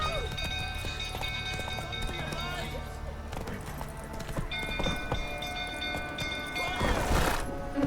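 Roach the horse gallops in The Witcher 3 with rhythmic clip-clop hoofbeats running continuously under game music, and a voice talks over the hooves.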